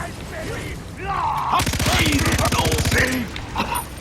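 A rapid, evenly spaced burst of automatic gunfire from a weapon in a video game lasts about a second and a half, loud and close, while someone talks excitedly before and after the shots.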